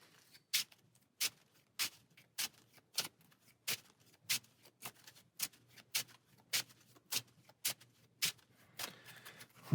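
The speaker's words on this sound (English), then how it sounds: "And shuffle." Cards from a Transformers deck-building game are shuffled in about fifteen sharp, evenly spaced riffles and snaps, close up and fairly quiet, with no talking.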